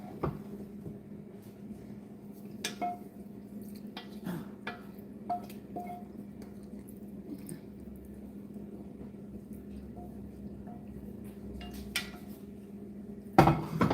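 Pork, fennel and lemon ragu being mixed in a pan, giving a steady low kitchen hum broken by scattered soft clinks and scrapes of utensil on metal, with a louder clatter at the very end.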